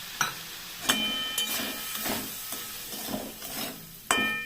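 Semolina being stirred into fried vegetables in hot oil for semolina pulao, with steady scraping and stirring strokes over a soft sizzle, plus a few sharp utensil knocks against the pan.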